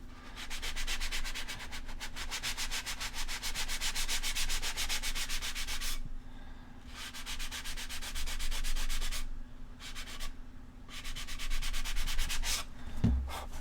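Scuffing a surface by hand with sandpaper, steady rapid rhythmic rubbing strokes, close and continuous with two brief pauses, under a faint low hum.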